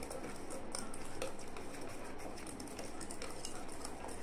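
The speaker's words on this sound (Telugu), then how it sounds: "ఒకే వైపు పెట్టి బాగా బీట్ చేసుకుంటే బాగా వస్తుంది అండి" Plain cake batter beaten by hand in a bowl, a steady quiet scraping and tapping rhythm of utensil against bowl, continuous and close.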